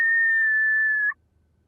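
A single sustained whistled note, loud and close, held steady for about a second as a signal, then cut off into near silence.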